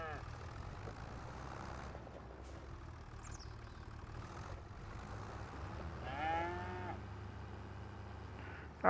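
Cattle on a farm in the Farming Simulator 25 video game moo once clearly at mid-distance, over a low steady engine-like drone and ambient game hum.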